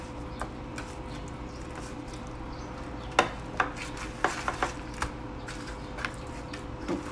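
A utensil scrapes and clicks against a bowl while seasoned raw chicken with garlic powder is stirred, a series of sharp taps and clinks at an uneven rhythm over soft squishy mixing, close and fairly quiet.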